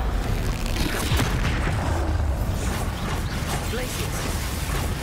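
Bombarda spell blast in the video game Hogwarts Legacy, a heavy booming impact with creaking, grinding mechanical debris, under a dense constant rumble of game noise.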